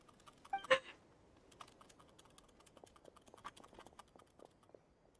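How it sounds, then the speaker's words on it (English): Faint, scattered clicks of typing on a computer keyboard, with one louder keystroke burst near the start, then irregular light taps continuing close by in a quiet room. "I don't know if you can hear my keyboard."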